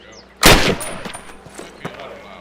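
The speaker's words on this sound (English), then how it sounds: "Approach the fence and fire 6 rounds at your target." A single loud, sharp gunshot at a target on a range in Call of Duty (2003), followed by a decaying echo and a few fainter clacks and thuds.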